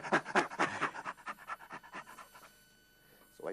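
A person imitates low-level chimpanzee laughter with a rapid series of breathy, rhythmic pants that fade toward the end, then one more breath at the close.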